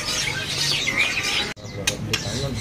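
Caged magpie robins and other songbirds at a bird kiosk chirp and whistle in a busy, bright tangle close by, continuing faintly after a brief break.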